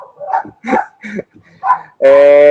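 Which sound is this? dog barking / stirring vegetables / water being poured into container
dog barking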